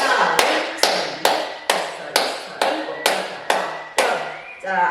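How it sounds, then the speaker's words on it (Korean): Ten sharp, loud hand claps at an even, unhurried pace during a seated breathing and neck-and-shoulder exercise class, each crisp smack ringing briefly before the next, with nothing else heard. "자 박수 10번 시작"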